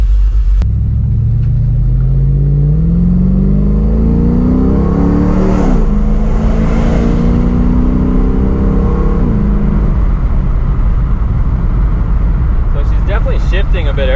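A Dodge Dakota R/T V8 engine, newly tuned with an exhaust leak fixed, idles low, then revs up with a rising, throaty roar that holds for several seconds before easing back to a rumbling idle, close and loud.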